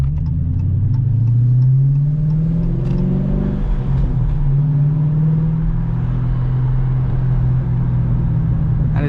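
Dodge Challenger 392 V8 rated at 485 horsepower, fitted with a Flowmaster Super 10 exhaust, revving hard and close, with a deep rumbling idle that swells and falls in two long throttle pulls.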